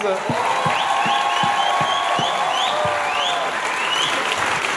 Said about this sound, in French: Mesdames et messieurs, un tonnerre d'applaudissements pour JF Otis!